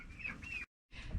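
Soft cheeping and clucking from baby chickens on a farm, two short bursts of calls separated by a brief silence, fairly faint and close.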